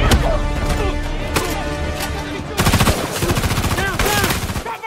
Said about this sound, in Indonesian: Dan di saat itulah baku tembak antara mereka terjadi.